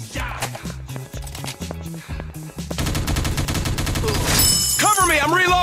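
Gunfire in the first-person shooter video game Teddy Bear Gun Strike, rhythmic single shots giving way to rapid sustained automatic fire, loud and dense, with voice callouts mixed in.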